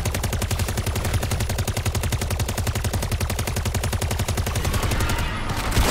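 Rapid automatic gunfire in MW3 Zombies, a dense, steady rattle of shots sustained throughout, loud and close, with no talking.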